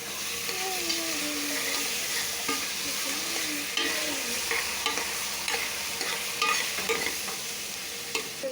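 Tomatoes sizzle steadily in a hot pan while a spoon keeps stirring them, giving a constant loud frying hiss with scraping strokes running through it.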